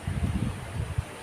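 Outdoors in a strong breeze, wind blows through tree leaves with a soft rushing hiss over low, gusty buffeting against the microphone. The gusts come in uneven waves across the short moment.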